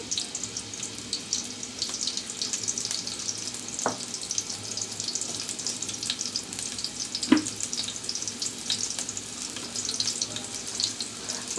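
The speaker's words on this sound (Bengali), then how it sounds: "দিচ্ছি কিছু পেঁয়াজ কুচি অল্প দিচ্ছি রসুন কুচি" Chopped onion and minced garlic fry in oil with a soft, even sizzle and a few sharp clinks of a utensil, fairly faint and unbroken, with no voices.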